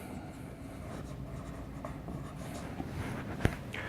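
A pen scratches softly across paper while figures are written down, a quiet continuous scraping with a single sharper tap near the end, and no voices.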